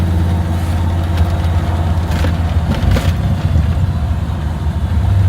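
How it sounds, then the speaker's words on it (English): A 355 small-block Chevy V8 with a gear drive in a 1923 Ford T-bucket idles steadily up close, deep and rumbling, with a faint gear whine riding over the low growl throughout. "Sounds like it's got a gear drive too."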